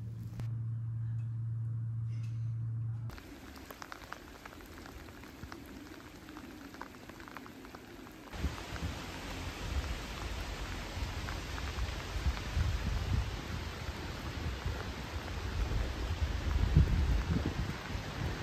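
Steady rain falling during a wet winter day in the Lake District, a dense, even hiss of drops that thickens partway through and continues with no voices.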